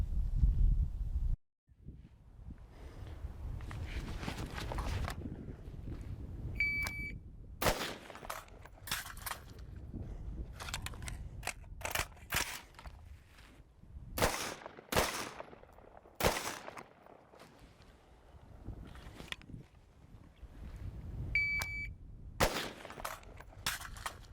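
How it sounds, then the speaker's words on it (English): M16A4 rifle fired on an outdoor target drill: loud, sharp single shots spaced across the run with a reload pause in between, over wind noise. "It's going to be 1 round in the A zone on the target, empty gun reload, 2 rounds to the A zone, and then 1 round to the head."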